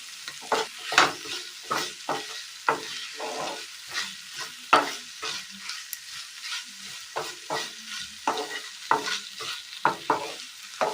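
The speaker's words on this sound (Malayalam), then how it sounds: "ഇനി ഇതിലേക്ക് കറിവേപ്പില കൂടി ചേർത്ത് കൊടുക്കാം. നന്നായി ഒന്ന് മിക്സ് ചെയ്തെടുക്കാം" A spoon works through a Kerala-style curry with curry leaves in a pan, giving repeated close scraping strokes in a quick irregular rhythm over a light sizzle, with no talking.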